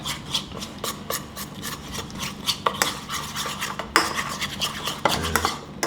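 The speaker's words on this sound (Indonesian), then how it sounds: "Kita aduk dulu" A flour and water batter stirred in a bowl, with steady rhythmic scraping and clinking of a utensil against the bowl throughout, close and fairly loud, with no talking.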